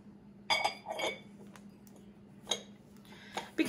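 A milk glass American Eagle piece being handled, giving a few light, sharp clinks spaced apart, close and fairly quiet over a soft steady hum.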